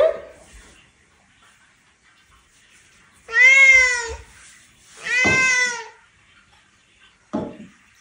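Cats, including a Bengal cat, give two long, clear, close meows a second apart, then a short third call after a pause, with quiet stretches in between.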